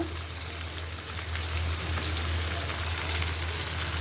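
Spices and garam masala fry in a hot pan for a mutton biryani, with a steady, even sizzle and crackle at moderate volume plus a constant low hum behind it and no talking.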